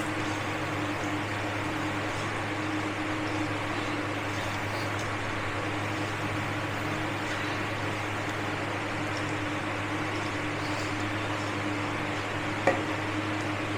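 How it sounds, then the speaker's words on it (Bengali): Panch phoron spices fry in a pan for a raw mango chutney, giving a steady, even sizzling hiss over a low constant hum. One small clink comes near the end. "ভেজে নেবো।"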